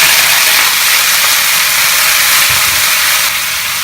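Cauliflower florets fry in a hot, thin-bottomed pan, giving a loud, constant sizzling hiss that fills the space at close range with little variation.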